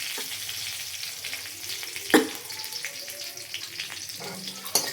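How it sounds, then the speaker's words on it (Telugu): Fenugreek leaves fry in hot tempering oil in a home kitchen, giving a steady close sizzle with stirring scrapes and one sharp clatter partway through. "మెంతి కూర మంచిగా తాలింపులో వేగితే మంచి స్మెల్ వస్తుంది"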